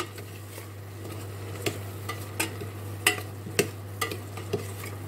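A spoon stirs spices and salt in a pot for Algerian chorba frik, making soft, irregular scraping clinks against the pot over a low steady hum.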